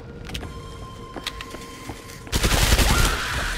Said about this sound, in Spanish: ¡Un disparo, una muerte!